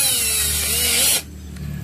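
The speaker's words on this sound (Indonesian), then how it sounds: "Di sini kebetulan saya juga ada mata bor yang jenis pagoda, yang diameternya juga lebih besar." A power drill fitted with a large-diameter step (pagoda) bit, used while installing a phone charger on a motorcycle, whines loudly and steadily up close for just over a second, then stops abruptly, leaving quieter low noise.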